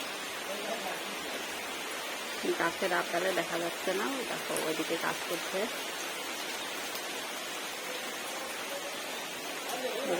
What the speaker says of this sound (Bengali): তো এখন বৃষ্টি পড়ছে